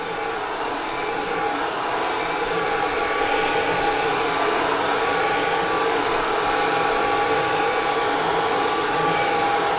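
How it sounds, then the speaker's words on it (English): A hair dryer blows steadily on freshly dyed CDC feathers, a constant, even whooshing hum that runs alone without a break. "blow dry it. Doesn't take long to dry."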